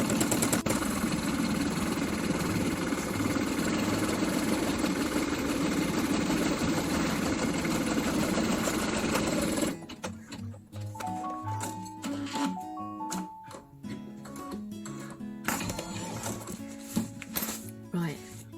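An embroidery machine stitching out a mirror section on medium weight stabilizer, a steady dense mechanical whir that later breaks into choppier rhythmic stitching, with a voice talking over it.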